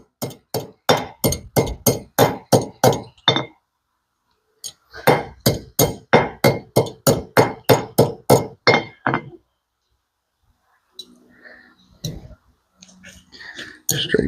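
A loop on a necklace made from a sledgehammer is hammered on an anvil: two quick runs of sharp, ringing metallic strikes in a steady rhythm, separated by a pause, then quieter handling clicks.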